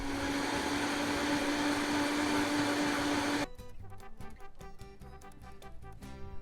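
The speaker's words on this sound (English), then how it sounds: "I'm going to add all that to my high-speed blender, blend it up into a delicious salsa." A high-speed blender whirs loudly and steadily while blending salsa ingredients, then the motor abruptly cuts out partway through, leaving quieter scattered clatter and room noise.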